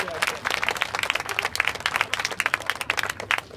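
An audience at a Kingman High School performing arts exhibition applauds, with dense, steady clapping from many hands at a moderate distance continuing throughout.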